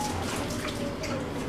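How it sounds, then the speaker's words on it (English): Water from a pot of boiling potatoes is poured out in a kitchen, a brief, soft splashing gush that runs steadily at moderate volume. "Gotta take some of the water out"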